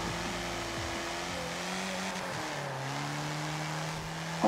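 A dirt racing buggy engine in a video game revs and drones steadily, pitch rising and falling through gear changes, loud and continuous with no talking.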